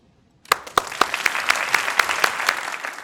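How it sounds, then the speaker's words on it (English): Applause at a virtual engineering school commencement ceremony begins abruptly after a moment of silence, with sharp individual claps standing out over a steady wash of clapping that continues to the end. "Please welcome Phil Weiser with a round of applause"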